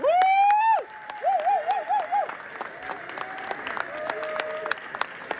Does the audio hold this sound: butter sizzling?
no